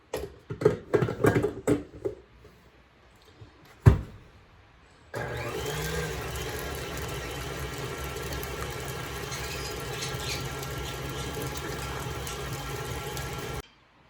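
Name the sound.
electric mixer whipping butter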